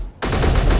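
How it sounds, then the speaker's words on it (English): Sudden burst of automatic gunfire in the video game Space Engineers, a very loud, dense rattle that cuts in abruptly after near silence and continues to the end. "Why is that gunfire so much louder than everything else?"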